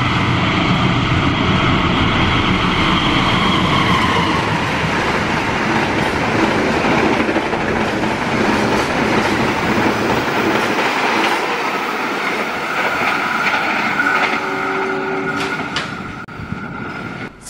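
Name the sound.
Fajar Utama YK train passing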